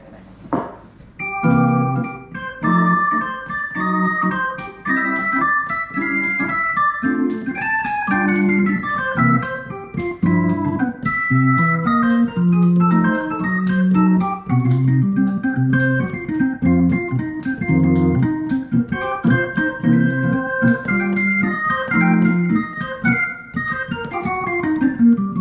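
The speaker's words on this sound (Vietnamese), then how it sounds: "Organ này thì là đánh nhạc nhạc jazz à." Yamaha YDP-164 digital piano on its organ voice, playing a jazz passage with sustained chords and a moving melody line, steady and close for the whole stretch, with no talking.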